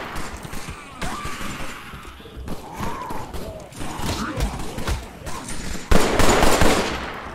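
Gunfire from the Killing Floor: Incursion VR game, a string of sharp shots and bursts set against a busy game soundtrack, with a louder, harsher blast near the end.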